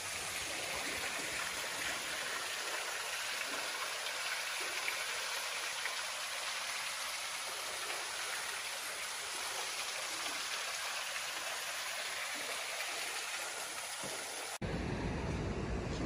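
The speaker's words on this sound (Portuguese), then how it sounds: "Chegamos aqui na outra cachoeira." Waterfall called Cachoeira do Ouro near Brasília, a steady, loud broadband rush of falling water that continues unbroken, close by, with no talk over it.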